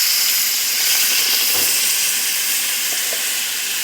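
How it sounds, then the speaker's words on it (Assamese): Water poured into a hot pan of local chicken curry cooked with pumpkin, giving a loud, steady hissing sizzle that holds evenly throughout with no talk. "এতিয়া পানী দি দিছোঁ।"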